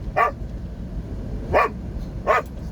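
Three sharp, excited barks from a dog, spaced apart over a low rumbling background like a truck cab interior, fairly close and loud.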